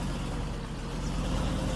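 Truck engine in Farming Simulator 19 idling and running with a steady low rumble, close and unbroken for a short moment, without talk.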